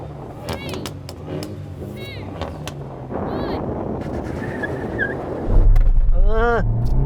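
A Civic Type R, MINI GP, i30 N or Focus ST hot hatch launching hard in a drag race, front wheels spinning. The engine roars and rises through revs, growing louder toward the end, with voices talking over it.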